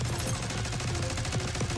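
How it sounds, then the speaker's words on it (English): Minigun fire in a video game trailer, a dense, loud continuous burst of rapid shots packed tightly together across the whole short stretch. "Stay low until that minigun stops spinning."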